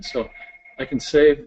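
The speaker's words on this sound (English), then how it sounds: "excuse my phone again" A phone gives a short, steady electronic tone between bursts of a person talking, lasting about half a second and sitting at moderate loudness just under the speech.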